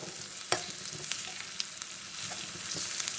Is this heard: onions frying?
yes